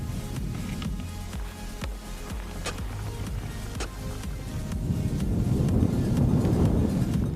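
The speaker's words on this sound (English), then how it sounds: "And that wind is not showing any signs of letting up." Strong wind roars steadily over a snowy kayak fishing trip, low broadband rumble with gusts that build louder toward the end, with no voices.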